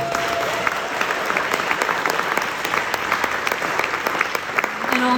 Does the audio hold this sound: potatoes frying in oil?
no